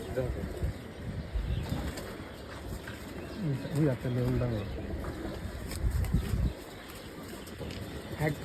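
A flock of pigeons coos softly in the background, with some wing flutters, while people talk throughout at a vaccination session.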